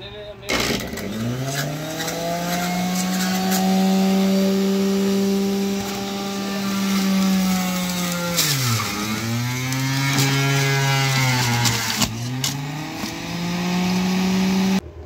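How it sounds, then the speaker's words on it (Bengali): An electric fruit juicer machine runs loudly up close with a whining motor hum that shifts pitch several times as the speed setting changes and the load varies, with speech faintly beneath. "এটা একটা ফ্রুটসের জুসার মেশিন দিয়ে আমি জুস তৈরি করব।"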